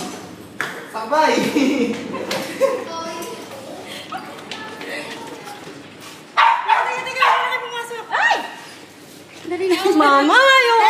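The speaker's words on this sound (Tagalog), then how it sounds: "Ang dami aso." Several dogs bark and yip close by in repeated bursts, mixed with a child's crying and calling voices.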